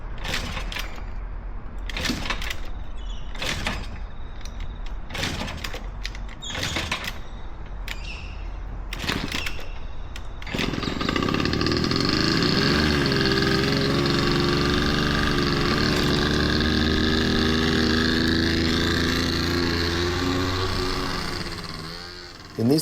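A two-stroke scooter, just repaired after blocked jets and a lack of fuel, idles with sharp clicks and knocks and then revs into a steady, loud, buzzing drone as it rides off.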